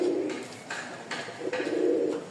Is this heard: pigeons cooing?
yes